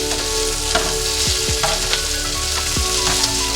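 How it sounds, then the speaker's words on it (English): Shrimp fry in garlic butter in a hot pan, giving a steady, close sizzle with scattered pops and a few soft scraping stirs throughout, with no voices. "So our shrimp nicely fried"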